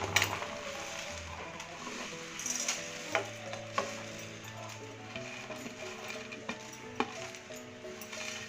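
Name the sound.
dry roasting whole biryani spices in a pan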